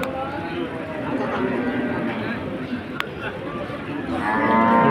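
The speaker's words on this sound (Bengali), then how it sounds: "এখানে একটা হলস্টাইন ফ্রিজিয়ান গরু দেখতে পাচ্ছি" A Holstein Friesian cow at the Hazratpur cattle market lows with a drawn-out moo, heard nearby against a crowded backdrop of steady market chatter and people talking.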